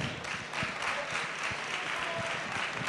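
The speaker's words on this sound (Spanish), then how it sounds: "Un aplauso." An audience at a university tuna-group competition prize ceremony breaks into sustained applause as a second prize is handed over, a steady wash of many hands with a murmur of voices underneath.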